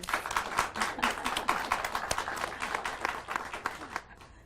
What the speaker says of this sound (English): A round of applause for Miss Sherry, please.